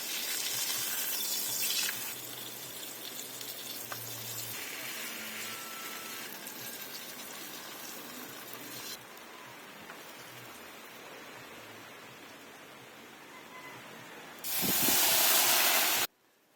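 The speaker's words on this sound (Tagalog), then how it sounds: "Grabe, maulan pa rin." Steady rain falls at a car-camping site as a broad, continuous hiss that shifts slightly in level. A louder burst of spray comes near the end, and faint voices can be heard beneath it.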